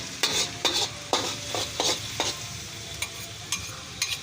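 Onions frying in a pan for fried rice, stirred with a spatula in regular scraping strokes about every half second over a constant close sizzle, no talk.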